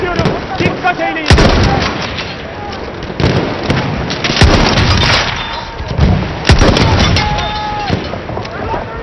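Sharp booming blasts in Battlefield 1, a grenade going off among repeated explosive bangs and gunfire, loud and close, with voices talking between the impacts.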